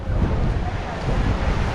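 Sea waves wash beside the floating mosque on the Red Sea shore in Jeddah, a loud, steady rush of surf mixed with heavy wind buffeting close to the microphone.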